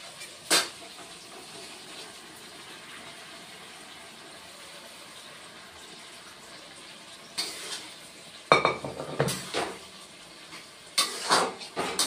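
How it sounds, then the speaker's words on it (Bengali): Chana dal lentils poured into a pan of oil and cooked tomato masala. A quiet, near-silent stretch gives way to several loud bursts of rattling and sizzling toward the end. "এখন আমি ডালটা এখানে ঢেলে দিব।"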